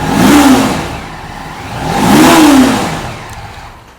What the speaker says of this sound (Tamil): வண்டி இப்போ நான் ஸ்டார்ட் பண்ணி காட்டுறேன் பாருங்கள்.